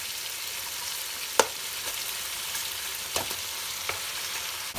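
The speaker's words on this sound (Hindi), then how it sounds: "और 2 मिनट मटन को भुनेंगे" Mutton frying in a pan, a steady close sizzle with a few sharp clicks of stirring scattered through, and no voices.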